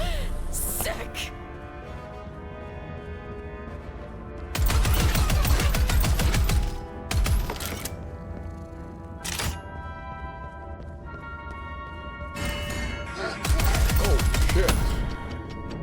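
Gunfire in the video game Postal comes in loud bursts of rapid shots, separated by quieter stretches, with a player's voice talking and exclaiming over the action.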